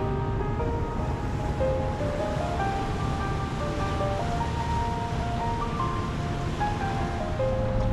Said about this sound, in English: Afterwards, the lines are cast off and we start our river cruise towards Vienna.